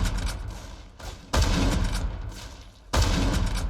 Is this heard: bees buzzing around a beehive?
no